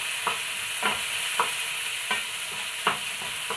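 Banana pieces sautéed in ghee sizzle steadily in a pan, with a spoon scraping and stirring in regular strokes about every half second, close and moderately loud, no voices.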